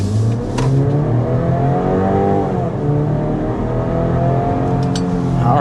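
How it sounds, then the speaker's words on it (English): A 2025 BMW X3 30 SUV accelerating hard from inside the cabin, heard slightly downhill; the engine note climbs steadily through the gears with brief dips at each shift, loud and continuous. "let's go ahead and start with a hard acceleration"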